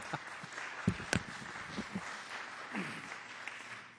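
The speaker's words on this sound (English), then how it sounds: "we ought to give him a round of applause for sitting through this" Sparse, scattered hand claps from a congressional committee markup audience, honoring Mr. Rangel of New York: a few faint, uneven claps over a quiet room, with no sustained ovation.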